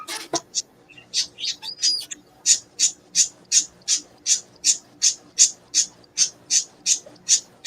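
Steady series of bright, short bird chirps repeating at a quick, even rhythm, fairly close and clear over a quiet background.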